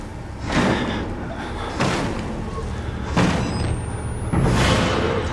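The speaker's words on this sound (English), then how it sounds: "Is he breaking down the door?" A door being battered down in the horror game Outlast: four heavy, booming slams at spaced intervals, loud and resonant, with faint background ambience between the blows.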